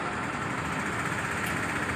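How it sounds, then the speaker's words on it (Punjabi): A steady mechanical hum of a small motor-driven engine oil pump at a petrol station running continuously, with an even, unbroken drone and no voices. "ਇਹ ਇੰਜਨ ਆਇਲ ਦਾ ਪੰਪ ਆ"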